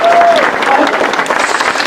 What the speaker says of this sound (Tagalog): Pilipin ko palakpak para kay Jessica.